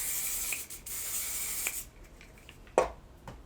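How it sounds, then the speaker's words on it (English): One Size setting spray is misted onto a face: a steady, fairly faint airy hiss with a couple of soft pumps, followed by light rubbing and handling noises close to the mic. "One Size setting spray."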